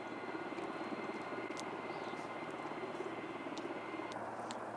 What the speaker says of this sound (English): I got some kind of ridiculous helicopter noise now, and it just don't go away.